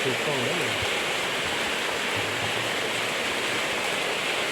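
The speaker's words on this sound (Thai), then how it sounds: "ฝนตกพอดีด้ยค่ะพี่น้องเด้อ" Steady, dense rain hisses outdoors during a charcoal grilling of red pork, a loud unbroken wash of noise from start to finish, with faint low voice traces beneath.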